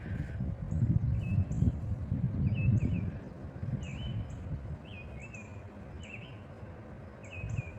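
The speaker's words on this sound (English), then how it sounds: "The birds are singing." Birds chirping outdoors after a rainstorm, short repeated tweets at moderate distance over a steady background hum and rustle, with a faint low rumble early on.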